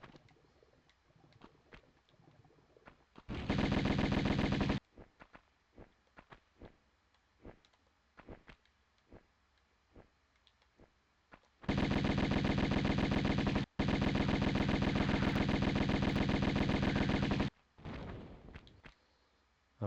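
Loud, sustained automatic gunfire from shooting enemies in the 1996 game Tomb Raider, one short burst followed by a longer one of about six seconds, with scattered single shots and faint game sounds between them.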